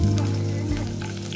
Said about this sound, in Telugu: నూనె వేడైన తర్వాత పచ్చిమిరపకాయలు వేసుకోవాలి